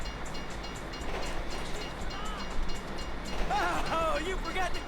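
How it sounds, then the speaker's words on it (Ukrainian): A train rumbles past in GTA 5, a steady low rolling roar with a faint metallic squeal rising near the end, while people talk quietly over it. "давайте ми тепер на безпечній відстані перечекаємо, поки той поїзд проїде"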